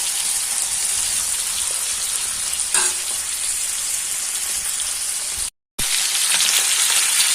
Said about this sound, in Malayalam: കരിമീൻ അങ്ങനെ നല്ല സ്റ്റൈലിൽ വെന്തുകൊണ്ടിരിക്കുന്നു